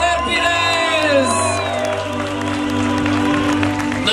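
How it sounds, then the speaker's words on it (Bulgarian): A crowd applauds and cheers as the Champions League trophy arrives in Sofia, with a loud voice and a steady hum sounding over the clapping throughout. "Ваши аплодисменти за..."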